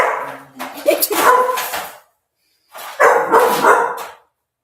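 A dog barks loudly nearby in two separate bursts of rough barking, with a short silent gap between them.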